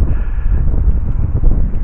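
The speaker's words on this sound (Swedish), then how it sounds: "Ändå blåser det precis lika mycket här i Grebo." Strong wind blows across open country in Östergötland, a constant low roaring rumble buffeting the microphone without pause.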